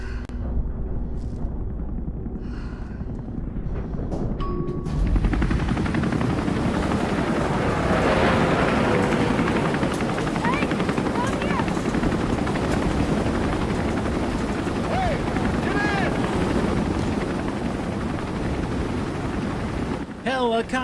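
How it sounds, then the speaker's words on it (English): A helicopter in the Resident Evil 3 Remake video game roars in after a quieter opening, its broad, steady rotor and engine noise holding loud for about fifteen seconds before cutting off abruptly. "Helicopter in a horror game."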